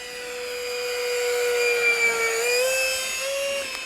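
An E-flite FJ-2 Fury 70mm electric ducted fan RC jet makes a low pass, a high whining fan tone that swells louder and shifts pitch as it sweeps by, steady and alone.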